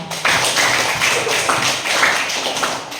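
A classroom of students applauds together, a dense, steady patter of many hands clapping close by for a few seconds.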